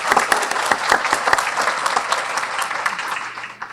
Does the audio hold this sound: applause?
yes